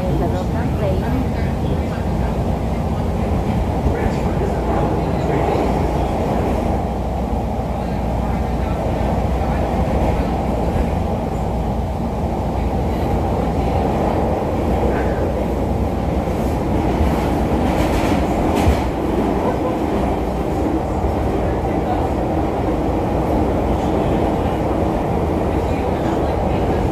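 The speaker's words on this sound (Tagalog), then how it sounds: "Dito na tayo sa loob ng train." Interior of a moving train, with a steady low rumble and rolling rail noise running throughout, occasional rattles and clacks, and people talking over it.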